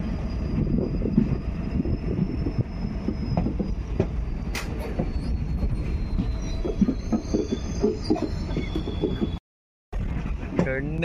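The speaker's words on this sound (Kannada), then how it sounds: "ಟ್ರೈನ್ ಹೆಂಗೆ ಹೋಗ್ತಾ ಇದೆ ನೋಡಿ" A train rumbles past close by, steady low rolling noise with a faint high squeal from the wheels, continuous throughout.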